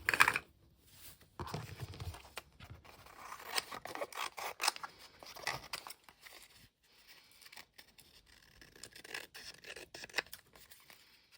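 Scissors cutting paper pieces out of a book page for a junk journal. Close, quiet snips and crisp paper rustles come in irregular bursts separated by short pauses, with no talking.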